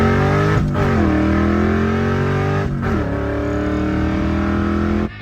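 A 1985 Ford Mustang GT engine revs loudly and accelerates through several rising gear pulls, pitch climbing then dropping at each shift, close and steady with no talk.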